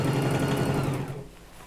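A sewing machine running briefly as it stitches skirt panel seams, a close whirring hum that holds steady for about a second, then winds down and stops. No voices.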